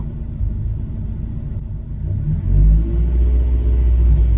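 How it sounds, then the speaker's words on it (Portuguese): A Honda car engine revs up to spin the alternator faster, a steady close low rumble that rises and thickens midway and then holds at the higher speed, with no talk. "Eu vou dar uma acelerada para que o alternador gire um pouco mais rápido."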